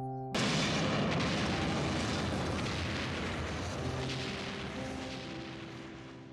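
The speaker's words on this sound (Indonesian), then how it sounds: "ruangan pun meledak" A room explodes in a film scene with a sudden sharp blast that gives way to a long, heavy rumbling roar slowly fading, as a musical drone rises underneath.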